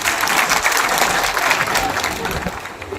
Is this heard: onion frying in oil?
no